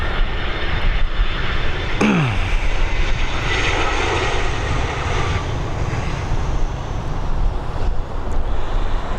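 Airliner landing at Dublin Airport, a steady loud roar of aircraft engines heard from outside, with wind noise blending into the continuous rumble.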